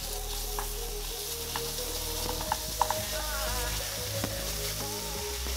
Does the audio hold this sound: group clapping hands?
no